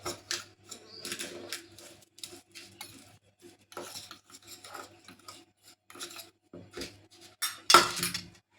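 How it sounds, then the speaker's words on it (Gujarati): A metal spoon stirs and scrapes stuffed-chilli masala mixed with salt and a pinch of asafoetida in a bowl, giving close, irregular rasping scrapes and clinks with short pauses and one louder clatter near the end. "બધું હવે ચમચી લઈને અને મિક્સ કરી નાખવાનું છે"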